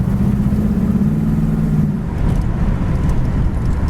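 A 1967 Pontiac Firebird convertible with a factory 326 HO high-output V8 runs close by, a steady low engine rumble with a brief tonal drone at first, then a rougher throaty note, no talk.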